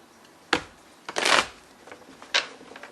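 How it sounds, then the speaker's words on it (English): Tarot cards being shuffled in a few quick riffling bursts, close up, with short pauses between them and no talking. "I just give them one more shuffle after I turn the camera on and cut them."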